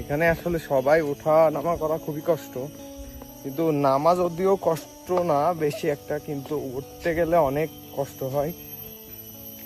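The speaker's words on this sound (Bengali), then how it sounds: "শব্দ শুনতে পাচ্ছেন ঝিঝি পোকার শব্দ" Crickets chirp in a steady, high, continuous drone on a steep hillside stairway near a waterfall, running faintly beneath someone talking throughout.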